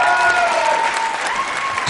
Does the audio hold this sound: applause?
yes